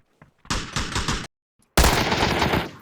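Bursts of gunfire in the battle-royale game PUBG: a short rapid volley, a brief pause, then a second loud burst of rapid shots, close and dominant with no talk.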